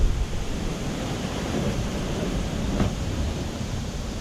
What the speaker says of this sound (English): the wind's strong enough to blow that plant right over